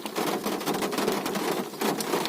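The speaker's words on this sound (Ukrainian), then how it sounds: "Третій раз сьогодні паде дощ така тут погода." Rain falls steadily around beehives during honey extraction in hilly country, a dense continuous patter close by with no voices.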